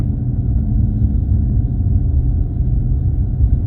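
A 2018 Cadillac CTS-V V3 climbs a snow-packed dirt road, its engine a steady, heavy low rumble with road noise that holds evenly throughout, no voices over it.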